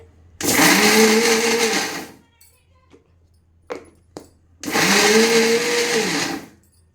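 Home mixer grinder blending red chillies with oil, salt and a little turmeric for a chilli pickle: two loud, close bursts of whirring motor roughly two seconds each, separated by a pause with a few clicks and knocks.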